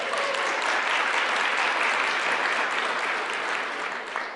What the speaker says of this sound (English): Should applaud that